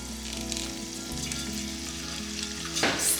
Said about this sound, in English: I'm just going to fry it in some oil